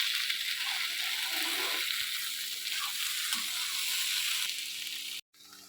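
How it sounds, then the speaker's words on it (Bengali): Broccoli fries directly in hot oil without steaming, giving a soft, steady sizzle close up and fairly quiet, with no talking. "বকুলিটা না ভাপিয়ে এইভাবে ডাইরেক্ট তেলেতে দিয়ে ভাজার"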